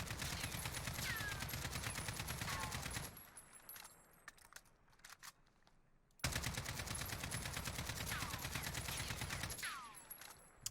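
Stock AK-47 with a 30-round magazine and no attachments firing in Warzone: two long sustained automatic bursts of rapid, sharp reports, loud and close, separated by a quieter pause with faint clinks.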